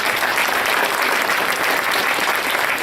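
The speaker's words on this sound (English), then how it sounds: "give them a big round of applause" Steady, dense applause from an audience at an animal science awards event, filling the whole stretch at a constant loud level without pause.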